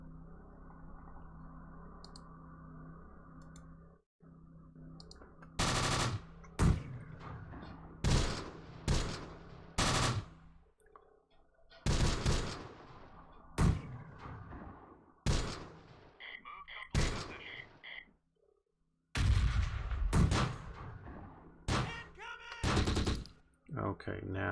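Squad gunfire in Close Combat: The Bloody First, repeated sharp bursts and volleys of rifle and machine-gun fire at close-to-mid range, spaced irregularly over a low ambient hum.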